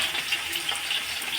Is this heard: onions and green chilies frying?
yes